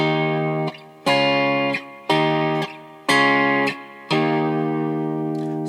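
Bright, sustained major chords alternate back and forth between two positions a whole step apart, each strummed chord ringing out with a slightly distorted, effected tone.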